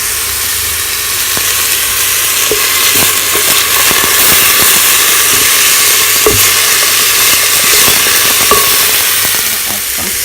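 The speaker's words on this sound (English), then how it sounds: "about half of red pepper that I have previously chopped, and then just give this a stir" Chopped red pepper stirred into a sizzling soup pot, with a steady loud frying hiss and scattered scraping clicks of the spoon.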